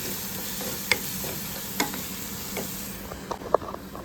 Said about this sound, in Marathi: मी आता हे बारीक करते आणि तेल सुटेपर्यंत हे मी व्यवस्थित शिजवून घेते